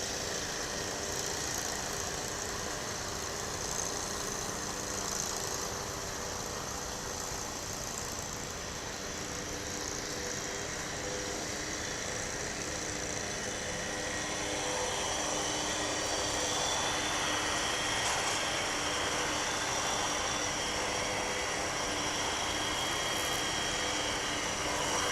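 Continuous jet engine roar from aircraft at DFW International Airport mingles with a lawnmower running nearby, a steady, loud broadband drone that swells a little in the second half, with no talking.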